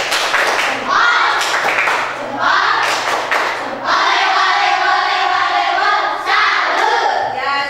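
A class of schoolchildren in a primary maths lesson claps a rhythmic salute clap in unison, loud and close, in repeated bursts with children's voices calling out between the claps.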